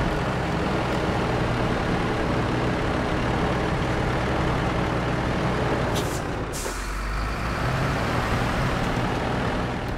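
A heavy off-road truck in SnowRunner idles and backs out through snow, a steady low engine drone throughout, broken midway by a sharp hiss of air-brake release.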